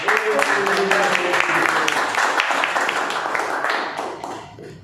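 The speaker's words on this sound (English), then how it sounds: "should deserve a huge round of applause" Audience applause at a Toastmasters club meeting, a steady burst of clapping from a roomful of people with voices mixed in, fading toward the end.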